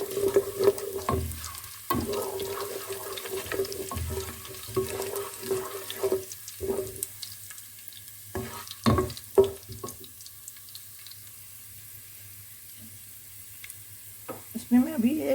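Curry leaves and whole mustard seeds frying in oil, a moderate sizzle broken by repeated clattering stirs and scraping, with a sustained hum underneath and quieter stretches between bursts.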